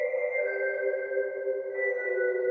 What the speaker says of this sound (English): Listen to the reverb tail.